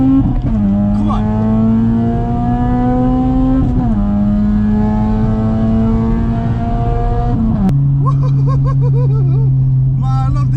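Straight-piped Honda Type R accelerating hard through the gears in a race, its engine note climbing steadily with a couple of pitch drops at the shifts, loud and close throughout.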